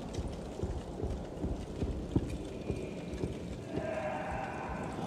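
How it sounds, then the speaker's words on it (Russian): Hooves knock in a steady, even clip-clop in the horror video game Medusa's Labyrinth, moderately near, over a low droning ambience with no talking. "Кто-то копытами стучит"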